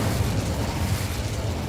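Confringo spell blasts go off in the video game Hogwarts Legacy, a dense rumbling burst of booming explosion noise that holds loud and steady throughout, with no voices.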